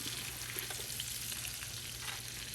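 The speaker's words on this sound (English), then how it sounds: "I will work on getting them cut side down in the skillet" Vesuvio potato halves sizzle cut side down in an oil and butter mixture in a skillet, a dense, continuous close frying hiss with light stirring and scraping.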